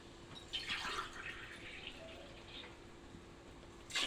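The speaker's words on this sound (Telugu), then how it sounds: "one and half cup water rice వేసాం కాబట్టి 3 కప్పుల వాటర్ అయితే వేయాలన్నమాట" Water poured by the cupful into a cooking pot of rice for homemade biryani, splashing and trickling in a few close bursts with a short drip-like tail.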